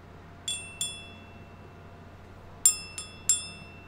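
Metal golden Jiggy statues are struck together like bells, giving five bright ringing clinks with short decays: two early, then a closer group of three, over a faint background hum.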